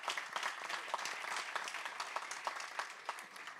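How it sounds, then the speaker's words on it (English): Audience applause at a banquet, a dense steady wash of many hands clapping at moderate distance, fairly soft and even throughout with no talk over it. "Let's give him a round of applause"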